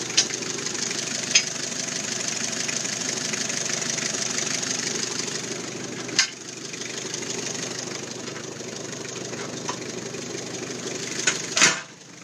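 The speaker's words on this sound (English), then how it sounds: "Powered by a Kubota engine." A Kubota-powered compact track loader idles nearby with a steady, even engine drone, punctuated by a few brief sharp clicks, with no talking.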